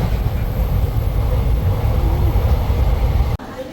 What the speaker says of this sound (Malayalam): ഞങ്ങളുടെ പാലക്കാട് റെയിൽവേ സ്റ്റേഷൻ നിൽക്കുവാണ്